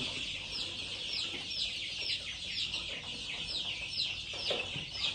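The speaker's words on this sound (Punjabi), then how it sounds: "ਇਹ ਯੂਨੀਵਰਸਿਟੀ ਚੋਂ ਆਈਆਂ ਹੋਈਆਂ ਮੁਰਗੀਆਂ ਦੇ ਬੱਚੇ ਆ" Many young chicken chicks on a farm peep and cheep continuously in high, overlapping calls, steady and fairly close, with no voices.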